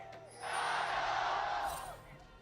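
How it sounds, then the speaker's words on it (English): Inside an arena at the League of Legends 2017 World Championship, an audience's cheer swells suddenly into a broad, sustained roar for about a second and a half, then ebbs back to a quieter hum. "Crowd just going off."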